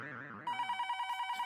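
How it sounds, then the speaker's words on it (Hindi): A telephone rings with a steady electronic trill in repeated short pulses, entering after a voice talks briefly at the start. "दया सुंदर का फोन है तो मुझे दे"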